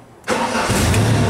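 Genie lift engine cranks and catches after a jump from a NOCO GB70 jump starter, bursting abruptly into a loud, steady running roar close by.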